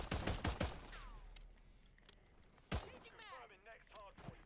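Pistol fire from Modern Warfare III, a quick cluster of sharp semi-automatic shots opening the clip, then scattered single reports and a louder blast near the middle, with a voice speaking over the game audio.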